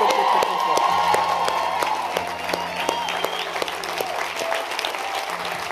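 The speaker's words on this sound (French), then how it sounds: "tiens-toi debout et acclame le Seigneur" A church congregation applauds and cheers steadily for several seconds, with dense clapping, scattered whoops and a few voices calling out over it, while an organ or keyboard chord sustains underneath.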